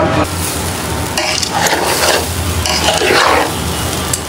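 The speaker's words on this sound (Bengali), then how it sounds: "পোলার চালটা ভাজা হতে থাকছে।" Polao rice stirred and frying in a pot gives a loud, continuous dry sizzle and scraping rustle up close, with no talking.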